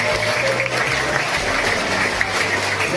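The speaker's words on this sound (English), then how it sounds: "let's have a big clap going around to you." A crowd at a wildlife park show claps steadily, the applause blended with low rumbling and murmuring from the audience, fairly loud and continuous.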